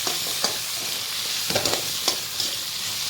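Whole coriander seeds sautéing in a pan for drumstick sambar, a soft steady sizzle with repeated scraping stirs of a spoon against the pan at irregular intervals, close up and with no voices.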